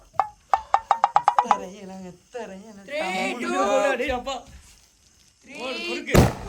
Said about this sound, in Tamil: முதல் வெடியே பயங்கரமா வெடிச்சாச்சு.